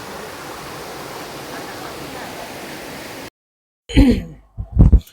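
Mashenuloddi Waterfalls at Dulapuram in Mulugu: a steady, even roar of falling water fills the first three seconds, then cuts out before brief bursts of talk.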